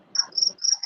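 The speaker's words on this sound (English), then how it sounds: "Cue the crickets." Crickets chirp as a comic sound effect, three or four quick high-pitched trilling bursts in a steady rhythm, loud and close, with no talking.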